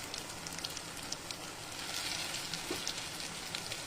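Baklava butterfly pastries deep fry in hot ghee over a medium-low flame, producing a soft, even crackling bubble that stays faint and constant throughout.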